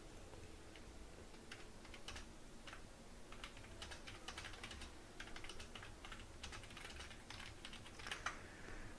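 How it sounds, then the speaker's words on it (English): Steady computer keyboard typing during an F1 Manager 2024 session, a continuous stream of quick, moderately close key clicks at an even pace with no voices. "Hope the keyboard ASMR was kinda good for y'all"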